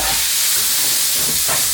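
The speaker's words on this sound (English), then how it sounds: "So we are trying to cook this pork" Minced pork stir-frying in a pan in a Thai home kitchen, a loud steady sizzling hiss up close with no talk.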